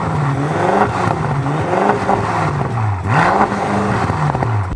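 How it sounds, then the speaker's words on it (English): BMW F10 M5 with a Miltech exhaust revved up close, the engine note rising and falling through several sharp blips over a loud, continuous rumble with no talking. "that Miltech exhaust is singing lovely"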